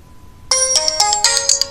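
A custom ringtone sounding from a Wear OS smartwatch starts abruptly after a faint hum, a bright melodic pattern of quick repeated electronic tones, loud and close, with no talking.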